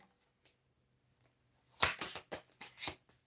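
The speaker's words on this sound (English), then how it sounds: "Let me shuffle." Tarot cards being shuffled: a few quick riffling bursts in close succession after a near-silent start, crisp and close.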